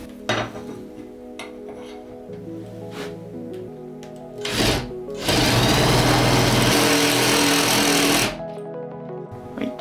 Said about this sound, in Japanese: 面取りのビットを使ってインパクトで削っていきたいと思います